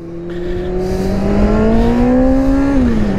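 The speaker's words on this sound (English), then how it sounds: "I'm about to give him a good rev." A car engine revs up loud and close, its pitch climbing steadily to a peak and then dipping slightly, a sustained throaty roar with no talking over it.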